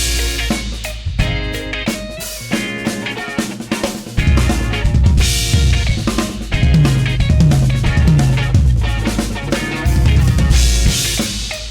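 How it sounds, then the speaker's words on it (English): A drum kit rolls through quick triplet fills, rapid tom and snare strokes tumbling in groups of three under crashing cymbals, played loud and close with no voices. "So you can create triplet fills on the fly that sounds like this."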